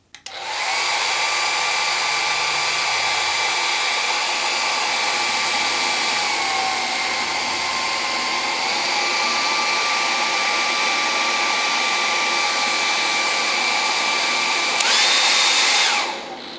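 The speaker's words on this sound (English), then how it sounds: "All right, and here we have a hairdryer." A hair dryer runs steadily off an EcoFlow RIVER Pro portable power station, a loud constant whine and airflow roar that shifts pitch slightly midway, then surges briefly before cutting off near the end.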